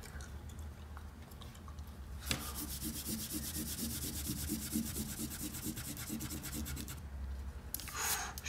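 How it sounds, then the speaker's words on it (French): Pencil construction lines on paper being rubbed out with an eraser, after drawing an emoji in ink: a steady, close scratchy rubbing that runs continuously for several seconds with rhythmic back-and-forth strokes and no talking. "On peut gommer nos traits de construction."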